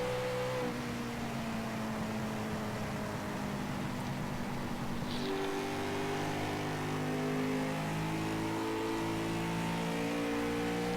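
A sprint car engine heard from on board during a race on a track in Iowa, a loud continuous droning roar whose pitch rises and shifts through the laps, with no talk over it.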